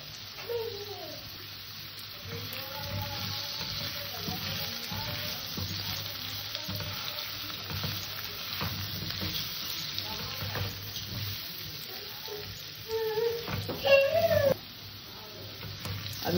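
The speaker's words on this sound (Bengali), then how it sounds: "আমি লবণ হলুদ দেওয়ার পরে একটু কষে নিয়েছি তরকারিটা" Potato curry seasoned with salt and turmeric sautéing in a pan: a steady, quiet sizzle runs throughout with occasional stirring, and a short louder stretch of scraping near the end, with no voices.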